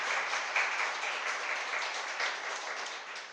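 An audience at a Jain sermon in Ahmedabad claps steadily, a dense, fairly loud patter of many hands that continues throughout and tapers slightly at the end.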